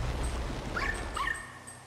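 Ghost dog in Luigi's Mansion 3 gives a couple of short yips and whimpers over a low rumbling game background, moderately close.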